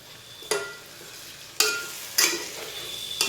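Mutton fried in fat in a pan with tomato, onion and ginger-garlic paste, heard as four sharp bursts of stirring and sizzling, each flaring up loudly and then fading back to a quieter hiss.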